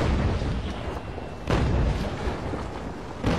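Cannon fire aimed at a ship in a video game, heard as heavy rumbling booms, with fresh blasts at the start, midway and near the end. They roll continuously, loud and dense, with no talking.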